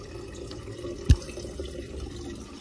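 Water running into a container to fill a bath for pigeons, a steady low wash of flowing liquid with a single brief splash or knock partway through, close by.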